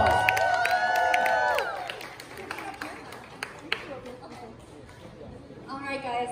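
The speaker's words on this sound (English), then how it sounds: "Everyone give her a round of applause." A crowd at an industry red carpet networking event applauds and cheers a singer's first performance, with clapping and whoops mixed under a voice and a musical tone at the start and end.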